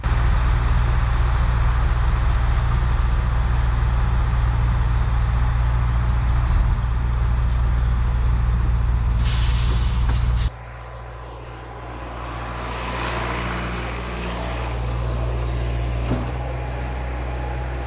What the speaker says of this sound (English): I was giving it a test to see if the dump truck was going to be able to stop it